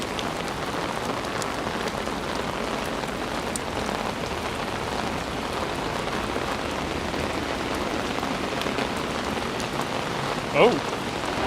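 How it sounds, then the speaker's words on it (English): Steady rain pours onto a New York City street, a dense even hiss of drops hitting pavement that continues unbroken, with one faint brief sound from a passerby near the end. "You can see the rain on the street."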